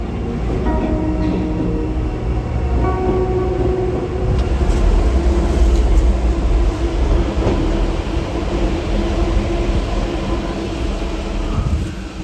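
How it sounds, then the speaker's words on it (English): A Paris metro train arrives at an empty underground platform in an abandoned station, a loud, sustained rumble of wheels and motors that swells midway and fills the tunnel, with no voices. "An arriving train can be heard on the empty platform."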